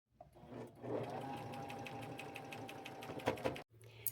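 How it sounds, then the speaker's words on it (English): Sewing machine stitching around the bottom of a fabric lunch bag, a close steady mechanical whirr for about three seconds with a few louder thumps before stopping abruptly. "I think I'll take it to the machine and just sew all the way around this bottom half one only"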